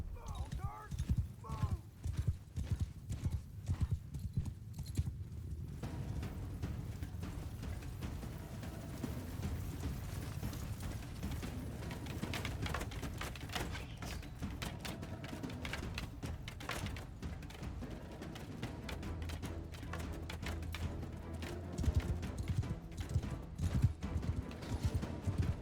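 Cavalry horses gallop across a Mount & Blade 2: Bannerlord battlefield, their hooves a dense, continuous clatter for the whole stretch, with occasional whinnies and battle noise rising and falling beneath.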